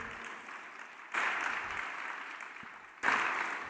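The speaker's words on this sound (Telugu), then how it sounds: "చప్పట్లు కొట్టి దేవుని స్తుతించండి." Worship congregation clapping to praise God during a church sermon, a broad wash of applause that swells suddenly twice and holds steady between, with no talk over it.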